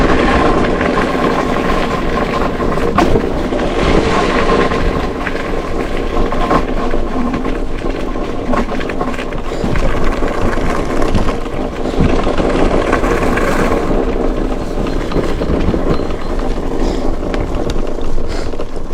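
Ninebot ZT3 Pro electric scooter riding off-road, a loud continuous rumble of tyres over rough ground with rattling and wind noise, steady throughout with no speech.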